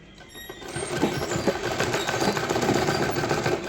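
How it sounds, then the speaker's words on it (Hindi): A sewing machine stitches the fabric of a boys' night suit, starting quietly and then running in a fast, steady mechanical rattle up close for the rest of the clip. "इसको यहाँ से स्टिच कर लेंगे"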